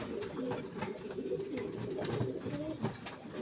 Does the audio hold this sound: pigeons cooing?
yes